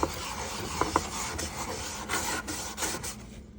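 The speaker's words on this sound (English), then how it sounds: "we will start cleaning and polishing this wood" Wood is cleaned and polished with rubbing strokes in a kitchen, making close, rough rasping swishes in a quick uneven series, with a couple of faint taps near the start.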